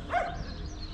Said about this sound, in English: It's only a puppy.